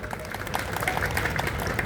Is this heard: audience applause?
yes